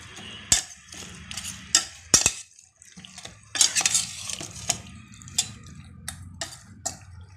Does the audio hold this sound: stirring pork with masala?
yes